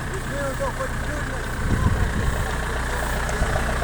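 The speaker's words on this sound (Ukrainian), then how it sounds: "Ну, Звісно, трактор працює через той грязний." A tractor engine idles steadily with a low, even rumble that runs throughout, growing slightly louder partway through, while someone talks over it.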